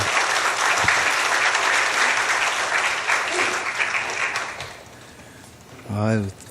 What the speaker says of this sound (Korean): 우리 나오실 때 큰 박수로 맞이해 주시면 감사하겠습니다.